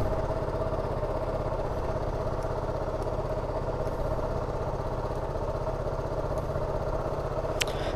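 A TVS XL 100 moped engine idles after a kick start: a steady, even low putter close by that runs throughout with no change in pace, and no one speaks.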